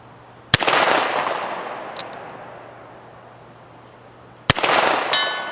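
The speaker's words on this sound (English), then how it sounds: "Let's see if we can get a shot on that 100-yard silhouette." Two loud, sharp shots from a Smith & Wesson Model 10 .38 Special police trade-in revolver at an outdoor range, fired about four seconds apart, each followed by a long rolling echo.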